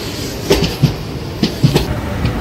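Tirupati–Puri express train (17480) pulling away from Gudivada Junction, a low rumbling roll with a few scattered clanks and knocks from the carriages, steady and fairly close.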